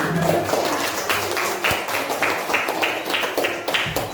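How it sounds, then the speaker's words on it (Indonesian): Classroom applause after a student group presentation, a broad wash of many hands clapping at a steady, dense pace, fairly loud and continuous throughout with no talk over it. "Berikan tepuk tangan."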